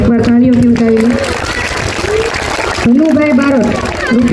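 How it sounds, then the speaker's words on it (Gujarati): A school audience at an Independence Day celebration applauds a donation in a burst of clapping, partly under a voice that speaks over the start and end. "એકવાર તાળીઓથી ઉઠાવી"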